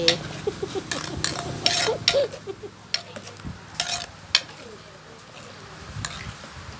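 A spoon scrapes and clinks around a pot of Isan-style jackfruit soup, giving sharp intermittent clatters between softer swishes, close up, while a person talks at times.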